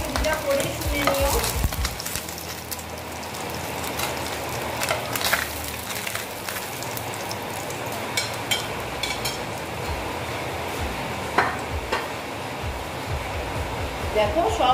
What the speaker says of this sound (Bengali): আমার মাছটা প্রায় ভাজা হয়ে গেছে